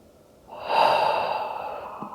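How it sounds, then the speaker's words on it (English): A deep, slow breath taken during a yoga stretch, a soft close airy exhale that swells and then fades steadily, with no talking. "One more breath."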